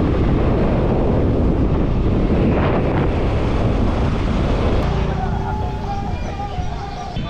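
Strong wind gusts across the open Hasaigari Beel wetland in Naogaon, a loud continuous roar buffeting the microphone, easing a little near the end as faint higher tones come in.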